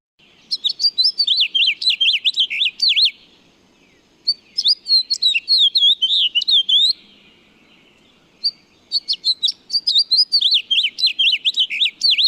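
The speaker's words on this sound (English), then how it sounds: "That is the warble of a house finch." Three bursts of a bright, rapid house finch warble ring out from close by, each a few seconds long with short quiet gaps between.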